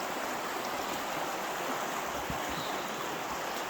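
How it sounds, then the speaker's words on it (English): Water of a winter stream rushing over rapids at Canyon Falls in Michigan's Upper Peninsula, a steady, dense, full-band roar with no breaks and no voices. "right now, it's just water flowing and kind of that nice sound of"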